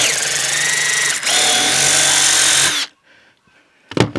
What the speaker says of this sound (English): so I'm just gonna run a drill bit through there